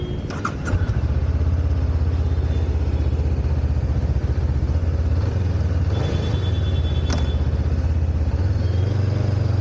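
A Honda NX500 motorcycle engine rumbles steadily while riding, a loud, continuous low drone with slight shifts in pitch and no voices.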